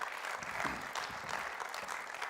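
A small church congregation claps together at a Sunday service, soft and fairly distant, an even patter of many hands sustained for a couple of seconds without voices over it.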